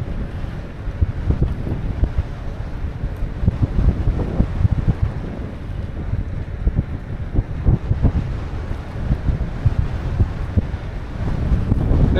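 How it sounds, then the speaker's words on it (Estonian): Strong wind buffets the microphone during a ride on a Joyor S8E mini moped, a loud, constant low rumble with gusty flutter throughout, no voices. "Tuul puhub tõesti kõvasti praegu siia kõrva."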